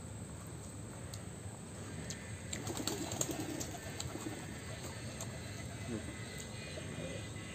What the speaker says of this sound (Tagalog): Ang daming ibon. Sumasabay.